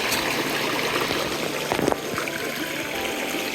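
Water rushes through a waterfall stream, a dense steady hiss with a brief splash in the middle, close and loud, with no voices.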